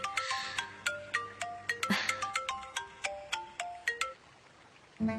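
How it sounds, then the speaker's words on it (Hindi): A phone ringtone plays a quick repeating melody of bright chiming notes, then cuts off near the end. "ये फोन क्यों बजता रहता है हमेशा?"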